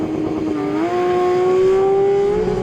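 A Porsche 911 GT3 launches for a quarter-mile run with stability and traction control switched off, its engine note climbing steadily in pitch as it revs hard and loud close by, with no talk over it.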